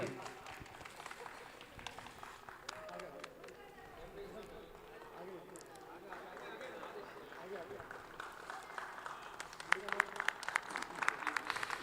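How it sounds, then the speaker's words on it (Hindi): An audience at an evening mushaira and kavi sammelan applauds steadily for a welcomed guest, the clapping building and growing denser toward the end, with a voice speaking over it in places. "दोस्तों आपकी तालियां लगातार बजती रहनी चाहिए"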